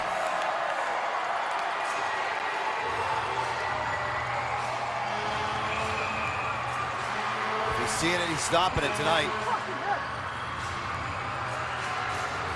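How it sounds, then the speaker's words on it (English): Hockey arena crowd at an AHL game between the Syracuse Crunch and Utica Comets, a sustained roar of cheering that swells and stays loud beneath a commentator talking throughout. "Crowd's getting going here."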